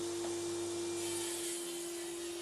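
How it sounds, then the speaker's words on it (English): Timber slabs for box making are cut down on a saw, giving a continuous steady whine and hiss of the blade through wood at close range, even in level throughout, with no voices. "Just cutting them down on the saw now."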